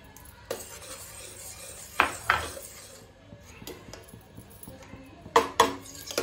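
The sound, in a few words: stirring milk powder into kheer with a spoon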